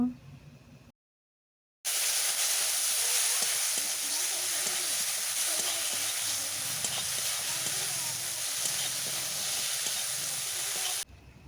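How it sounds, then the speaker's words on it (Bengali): Spices sauté with a splash of water in a pan, giving a steady, close hiss and sizzle that cuts out briefly near the start and then runs evenly with faint stirring. "জল দিয়ে ভালোভাবে আমি মশলা কষে নেব।"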